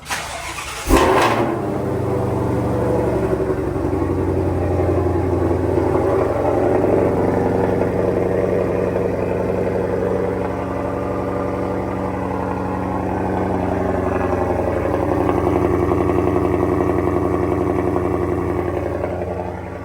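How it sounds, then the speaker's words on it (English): 2020+ Ford Mustang Shelby GT500 V8 with a Lethal Performance X-pipe exhaust fires up from a cold start with a sharp roar, then settles into a loud, steady, deep rumbling idle close by, with no talking. "This is the last cold start of the car with just the X-pipe from Lethal Performance."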